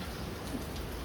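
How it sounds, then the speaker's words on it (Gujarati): Light rain falls in a steady, soft hiss, fairly quiet and unbroken, with no voices over it. "વરસાદ આવે છે"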